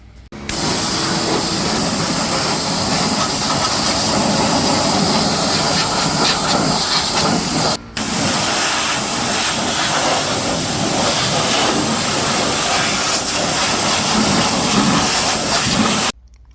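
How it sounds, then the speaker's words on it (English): A power washer blasts steady, broadband hissing spray over a fire-damaged Polaris Ranger 570, running loud and close almost nonstop with one brief cut in the middle. "I'm gonna power wash this thing out."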